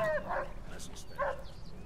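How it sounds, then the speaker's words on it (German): A dog yelps twice after being struck in the Mafia 2 video game, short high whimpering cries, close and fairly loud. "Hat er den Hund gerade geschlagen?"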